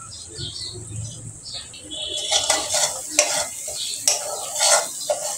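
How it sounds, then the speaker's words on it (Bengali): Ground turmeric, cumin, coriander, chili powder and salt stirred and fried in a pan for a fig and prawn curry, soft sizzling and scraping at first, then louder clinks and scrapes of a spoon against the pan. "হলুদ দিয়ে আমি ভালো করে মশলাগুলো ভেজে নিচ্ছি।"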